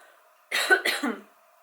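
One close, sharp cough in two quick bursts, breaking an otherwise quiet moment.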